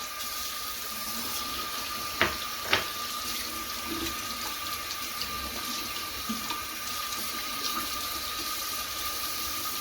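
Tap water runs steadily into a sink while a makeup brush is rinsed under it, a close, even splashing stream with a couple of brief knocks early on and no speech.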